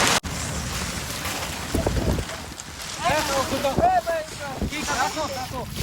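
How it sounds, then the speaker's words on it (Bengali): Strong storm wind buffets the microphone on a river in the Sundarbans during a nor'wester, rough gusts roaring close alongside boat and water noise while people shout and talk. "নদীতে যেমন ঢেউয়ের উত্তাপ বেড়ে গেছে, তেমন বাতাসের গতিও অনেক বেড়ে গেছে।"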